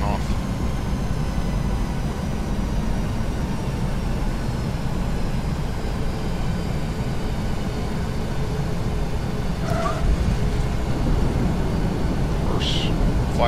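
Reverse thrust from a Boeing 737 NGX in a PMDG flight simulator rolls out on landing as a steady, broad engine roar that holds unchanged throughout, with a couple of brief clicks near the end.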